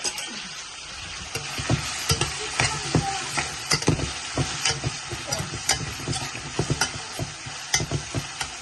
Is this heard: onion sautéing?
yes